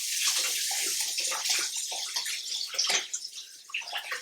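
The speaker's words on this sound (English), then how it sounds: "you can rinse your hands off to keep going." Hands being rinsed of egg under running tap water, a steady close splash and gurgle of flowing water with no talk.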